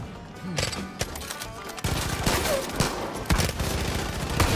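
Rapid bursts of gunfire, including shotgun blasts, in a Far Cry 5 firefight inside John's bunker, sharp repeated reports coming close together at varying loudness.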